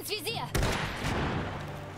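Gunfire in the strategy video game Iron Harvest: a voice is heard briefly, then a sharp burst of shots breaks into a sustained, dense rattle of firing that carries on to the end.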